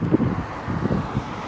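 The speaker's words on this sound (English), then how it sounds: "It is kind of windy." Wind buffets a microphone outdoors during a walk around a 2026 Forest River Impression 44STAY fifth-wheel, a steady low rumble with gusty swells throughout and no talk.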